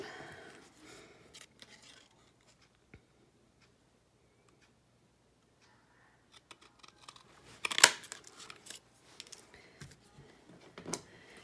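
Scissors trimming paper for a strawberry-themed handmade card, several quiet snips and paper rustles spread out between stretches of near silence, a bit busier toward the end.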